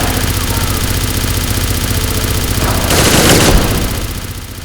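Rapid burst of automatic gunfire from a hostile companion character, Piper, attacking the player in a video game, erupting loudly for about a second over a steady engine-like drone.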